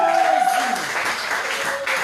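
A church congregation applauds and cheers together, a dense, loud wash of clapping filling the hall, with voices raised over it as it gradually thins out.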